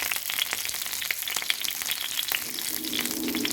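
Raw banana pieces fry in hot coconut oil with curry leaves, giving a steady, dense sizzle and crackle with frequent sharp pops, close and fairly loud throughout.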